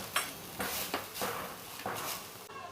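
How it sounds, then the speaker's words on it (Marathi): Fresh grated coconut being sautéed in ghee for a modak filling, with several distinct spoon-against-pan scraping strokes at an irregular rhythm, close and moderately loud, with no voices. "तर तूप टाकून आता त्याच्यात हे ओल्या खोबऱ्याचा खेस टाकला आणि ते आता परतून घ्यायचं चालू आहे"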